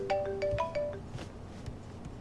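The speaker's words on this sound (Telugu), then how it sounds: "ఫోన్ వస్తోంది చూడు." A phone ringtone for an incoming call plays a short electronic melody of about a second, then cuts off, leaving room noise.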